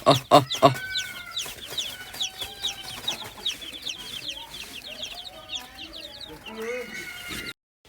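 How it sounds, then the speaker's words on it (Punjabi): Chicks and chickens cluck and chatter steadily throughout, set out in the sun, with a few louder squawks near the start and a rooster-like call in the mix. "ਲਓ ਵੀ ਮਿੱਤਰੋ ਚੂਚੇ ਦਿੱਤੇ ਆ ਛੱਡ ਧੁੱਪੇ"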